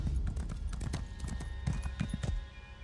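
Horse hooves in The Elder Scrolls Online: a steady run of clip-clop beats close by at a lively trot, with faint voices under them.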